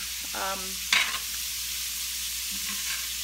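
Broccoli and sausage stir fry cooking in a pan, a soft steady sizzle with a few brief utensil clicks and scrapes against the pan.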